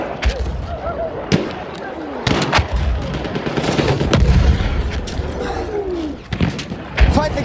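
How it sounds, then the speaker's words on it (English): Artillery barrage and gunfire on a World War I battlefield in Battlefield 1, Rush mode on Monte Grappa: sharp shots and heavy booms crack repeatedly over a constant roar of battle, with voices heard under the din. "The enemies are being halted by our artillery barrage."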